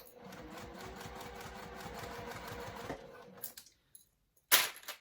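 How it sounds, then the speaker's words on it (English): A sewing machine runs steadily for about three seconds, stitching a basting-length seam on a garment in a home sewing session, then stops; a few clicks and a brief sharp rattle follow near the end. "I'm going to do 1/8 of an inch basting stitch"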